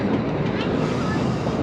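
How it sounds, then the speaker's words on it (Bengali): The Kalka–Shimla toy train pulls out of Barog station with a steady close rumble and rattle of the carriages. "বারগ স্টেশন থেকে আমাদের ট্রেনটি ছেড়ে দিল।"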